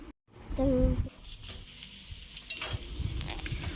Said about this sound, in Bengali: মুড়ি খাবো বলে একটু বেসন বড়া ভেজে নিচ্ছি